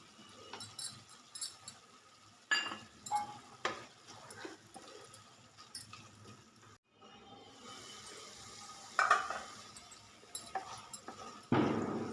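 Amaranth leaves stir-fried with chili powder in a pan, with scattered scraping stirs and light sizzling that rises and falls, plus a sharp clatter near the end.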